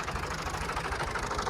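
A tractor engine idles steadily after starting, a continuous low rumble with a fine rhythmic knock running through the whole stretch, fairly close and alone without talk.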